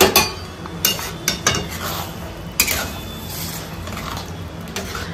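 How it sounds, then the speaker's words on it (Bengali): Ghugni is stirred in a cooking pot with a spoon, giving a few distinct metallic clinks and scrapes against the pot over a continuous sizzling hiss, fairly close and with no talking. "একটু নেড়ে দিই।"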